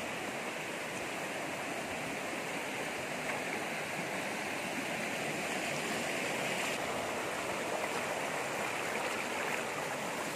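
A steady rush of flowing water from a river or stream, broadband and constant throughout with no voices.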